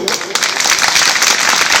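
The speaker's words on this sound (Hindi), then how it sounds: "ये बहादुर साथी हैं, इनका तालियों से स्वागत करें।" Students applauding at a school health event, a short burst of dense clapping filling the room throughout, with a voice briefly heard over it.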